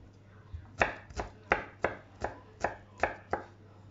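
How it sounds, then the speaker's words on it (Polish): Garlic is sliced into strips with a knife on a board: about nine crisp, evenly spaced chops, close and clear, with no talking. "Także czosnek sobie zgniatam. Kroję w paseczki."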